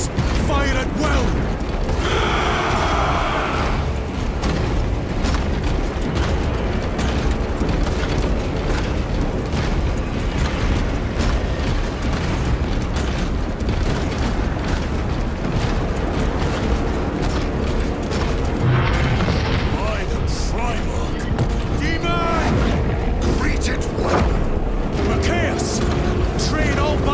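Dense battlefield din in Warhammer 40K Space Marine 2, with continuous gunfire and booming explosions churning loudly throughout, mixed with shouted voices over the chaos.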